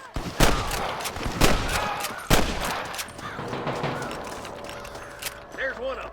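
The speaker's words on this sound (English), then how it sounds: "I can hear more gunshots." Bursts of gunfire from the video game Red Dead Redemption: several sharp loud shots spaced across the opening seconds, then quieter scattered crackle, with game speech running alongside.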